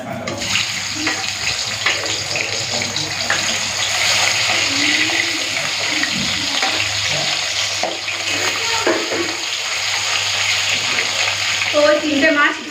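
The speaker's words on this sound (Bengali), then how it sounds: "তেল গরম হয়ে গেছে খয়রা মাছগুলো ভেজে নিই" Khoira fish sizzle in hot oil in a home kitchen, a loud, close, steady crackling hiss that continues throughout, with a few sharper spits near the end.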